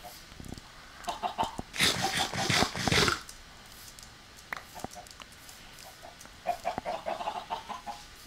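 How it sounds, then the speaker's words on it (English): Chickens cluck and squawk in a Minecraft farm area packed with about a hundred birds, a busy flurry of close calls clustering mid-clip and again near the end, with quieter pecking sounds between and no talking. "there's so many chickens down here"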